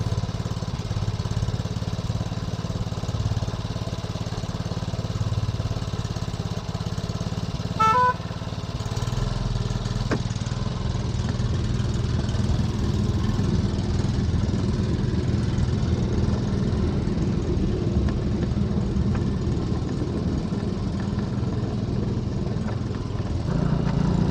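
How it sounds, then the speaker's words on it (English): The small petrol engine of a minimal gauge railway locomotive, running on unleaded petrol, runs steadily and loudly throughout, with a rough, chugging drone and vibration; no voices. "I thought I'd put this little engine to work on its first day on the railway"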